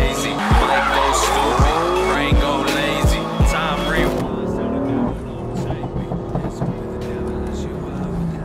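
A BMW M3 F80 tuned to about 580 hp drifts with loud, repeated tire squeals and skidding over a roaring engine, the screeches coming in several bursts before easing into quieter driving noise.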